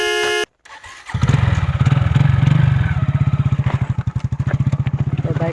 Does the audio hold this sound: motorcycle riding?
yes